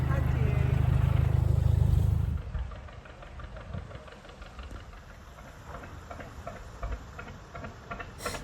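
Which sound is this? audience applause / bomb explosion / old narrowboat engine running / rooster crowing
old narrowboat engine running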